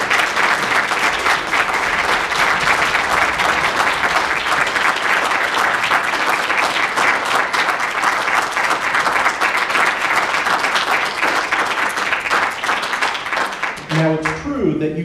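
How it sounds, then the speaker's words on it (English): A jazz concert audience gives trombonist Conrad Herwig a long, even round of applause, dense clapping that carries steadily for about fourteen seconds before a voice begins speaking at the end. "Can we please give Conrad Herwig one more round of applause?"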